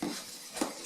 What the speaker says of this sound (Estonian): ja segan nüüd siia ettevaatlikult selle munakollase sisse